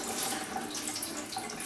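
Water is poured off washed brown rice into a kitchen sink. The splashing runs in a steady, close stream for the whole stretch, with no voices.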